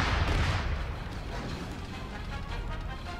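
Gunfire and artillery rumble in an Arma 3 battle on a Star Wars Geonosis map, a loud burst of low booming fire at the start settling into a dense, sustained roar of distant shooting.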